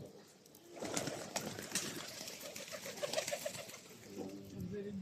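Pigeons cooing nearby in a short rhythmic series with a soft rustle of wings around them, and faint talk in the background.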